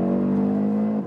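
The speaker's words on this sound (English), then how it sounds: "when it's really, like, going in high RPM" A 2021 Audi RSQ3 Sportback's 400 hp engine held at high RPM, a loud, steady, sustained droning rev that drops off abruptly at the end, heard close with no talking.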